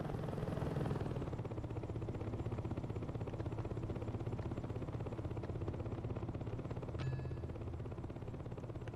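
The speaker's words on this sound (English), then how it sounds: "That's a sick-ass helicopter" A steady, rhythmic helicopter rotor thump with engine drone throughout, loud and close, with one brief tonal beep near the end, from the video game Saints Row 2.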